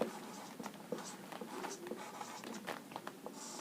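Chalk or marker scratches across a board during a Hindi-medium class 10 physics lesson on light, with short irregular strokes and taps close by and quiet room tone between.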